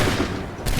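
A musket volley from the Assassin's Creed 3 video game, a dense burst of gunfire that rumbles on briefly, then a second loud crack lands near the end.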